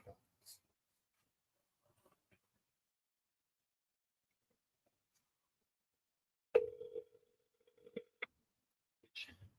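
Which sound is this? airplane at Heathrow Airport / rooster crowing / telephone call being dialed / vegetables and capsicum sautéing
telephone call being dialed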